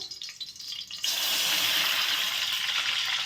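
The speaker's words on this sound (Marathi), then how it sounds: "ह्यामध्येच आपण आता पाणी टाकणार आहोत" Water poured into a hot kadhai holding ghee for sesame ladoos bursts into a loud, steady hiss and sizzle after a quieter first second, continuing close and unbroken to the end.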